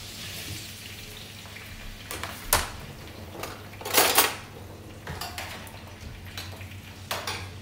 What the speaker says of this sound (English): Just tip the potatoes in and stir them around.